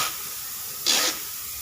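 Black spray paint hisses from an aerosol can in one short, loud burst lasting about a quarter second, set against a quiet steady background.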